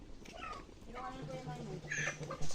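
A cat meows close by in a kitchen where native chicken soup is being cooked and served, its calls rising over ongoing background chatter and household noise.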